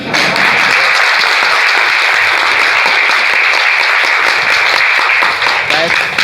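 A seminar audience in a hotel hall claps in a loud, sustained burst of applause, many hands together filling the room, with a voice heard over it.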